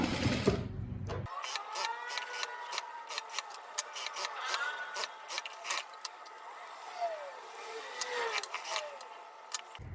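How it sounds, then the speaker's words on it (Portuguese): A sewing machine stitches the sleeve of a cropped blouse-style top. After a brief rustle it hums steadily with rapid rhythmic needle ticking, close and moderately quiet. "E depois a gente vai costurando na carretilha, tá?"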